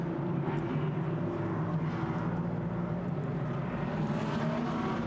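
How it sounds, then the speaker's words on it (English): GT race cars of the Blancpain Sprint Series lapping the turn 5 hairpin at the Algarve circuit, a steady engine drone heard from a distance, fairly faint and continuous with no talk. "As the cars loop their way around the turn 5 hairpin."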